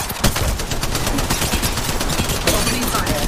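Dense rapid gunfire from a video game firefight, loud and continuous with sharp cracking shots packed close together.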